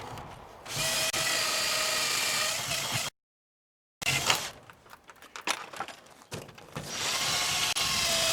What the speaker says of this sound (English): My drill bit is getting dull.